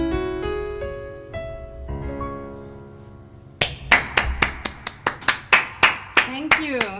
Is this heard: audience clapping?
yes